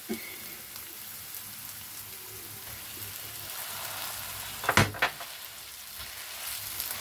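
Meat goes into a hot pan and sizzles quietly, a soft steady frying crackle with a brief louder burst of spatter near the end.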